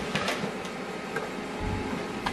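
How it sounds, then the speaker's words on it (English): HP LaserJet Pro 3002dwe printer printing a document, a steady broadband whirr of the mechanism with a few faint ticks, continuous and close, no talk. "So this document right now is printing out."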